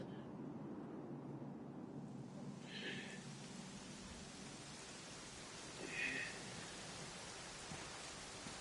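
Steady rain falls in Dragon Quest XI, a soft, even hiss of drops on surfaces that continues throughout at a low, distant level, with a couple of brief faint chimes partway through.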